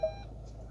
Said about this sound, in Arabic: كي دير المشارير راك تسمع دو بيب